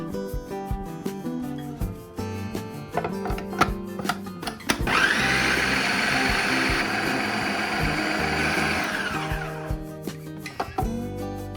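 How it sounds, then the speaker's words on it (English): A blender whirs loudly and steadily for several seconds as it purees a high-protein cheesecake batter made without cream cheese, with clattering kitchen handling just before and after. "Continue blending till it's smooth and creamy."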